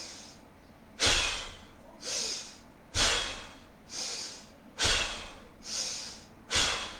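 Forceful breaths are pushed out through the mouth in a breathing exercise, seven strong rhythmic exhalations about a second apart, close and loud with quiet gaps between.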